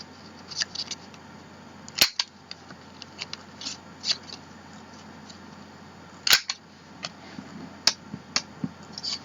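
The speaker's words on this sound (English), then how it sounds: "take your corner rounder, and on the bottom corner of each of these, you're just going to round that." Corner rounder punch rounding the bottom corners of paper pieces for a mini album, giving several sharp, close clicks and snaps spaced irregularly over quiet handling noise.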